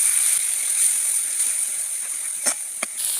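Water poured into a pan of frying cumin, chili, turmeric and salt paste for egg korma produces a steady hissing sizzle, broken by a couple of short splashy bursts near the end.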